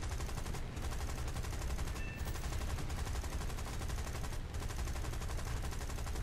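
Fairly faint, continuous rattling fire from a Hawker Typhoon's eight 7.7 mm machine guns in the War Thunder flight game, with only brief breaks between bursts.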